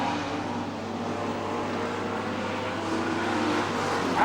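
Modified production race cars lap Charlton Raceway at night, a steady, loud engine drone that stays constant throughout without any voices.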